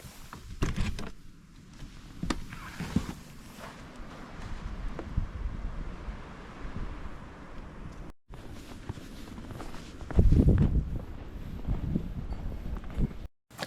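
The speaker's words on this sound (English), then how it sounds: "Windy snowstorm." Gusty wind of a windy snowstorm at minus four degrees, a steady broadband rush with louder gusts, especially a strong surge near the end, with some crunching or thumping noises mixed in and no speech.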